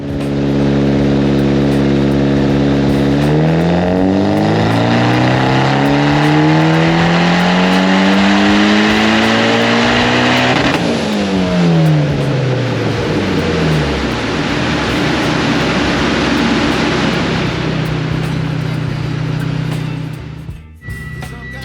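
A bolt-on Mitsubishi Evo X on 91 octane revs hard through a loud dyno pull under boost. Engine pitch climbs steadily, then falls as the run ends, with constant roaring drone throughout and no talk.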